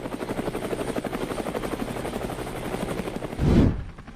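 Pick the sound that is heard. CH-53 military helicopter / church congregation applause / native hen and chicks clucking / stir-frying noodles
CH-53 military helicopter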